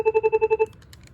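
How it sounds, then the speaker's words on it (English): A Cisco IP phone plays its Chirp 2 ringtone: seven quick, even electronic chirps in a steady pulse that stop after about two-thirds of a second and leave faint background noise. "Chirp 2."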